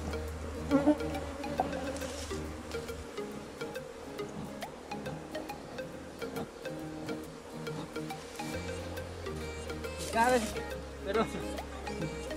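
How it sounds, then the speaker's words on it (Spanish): A defensive honey bee colony being smoked during a transfer into a hive box gives off a dense, steady buzz of many bees close by, with faint voices underneath. "Vamos a ahumar ahí para que las abejas salgan de esta zona"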